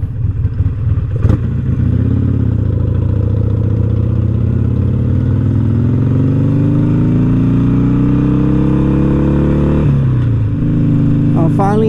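A motorcycle ridden on a road, its engine droning loud and close, with a long rising pitch as it accelerates through the gears and brief shifts between them, under rushing wind.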